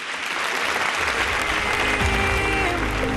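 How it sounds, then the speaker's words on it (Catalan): A tribute concert audience applauds loudly and continuously, a thick roar of clapping with music starting underneath partway through. "Un aplaudiment."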